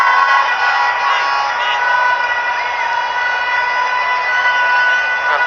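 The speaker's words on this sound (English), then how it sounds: "Sizable crowd here at the National Stadium." Sizable football crowd at the National Stadium during a Bangladesh vs India SAFF U20 men's match, a steady, dense roar of many voices filling the stands, continuous and fairly loud with no distinct peaks.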